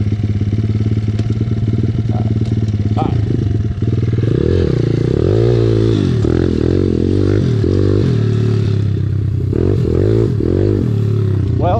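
Loud, close SSR 170TX pit bike revving hard around a backyard dirt track, the engine pitch climbing and falling repeatedly through shifts and throttle blips, with clattering and scraping underneath.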